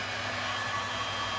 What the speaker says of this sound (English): just sort of drying it off a little bit with the heat gun